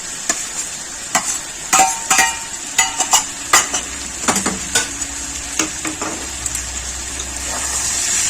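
Prawns stir-fried with spices in a pan, a loud continuous sizzle broken by a rapid series of scraping, knocking spatula strokes against the metal, close and without talk.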